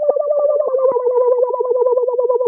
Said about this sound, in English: It's really just bubbles.